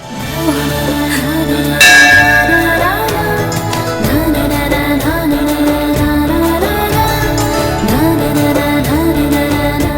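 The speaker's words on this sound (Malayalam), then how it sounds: "ദേ, ഇപ്പോഴും മണിയടിച്ചില്ലേ?" A bell rings steadily and loudly in a devotional setting, its tone blending into a dense, continuous musical background for the full duration.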